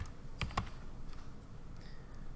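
Two quick, faint keystrokes on a computer keyboard sound close together over a quiet room hum.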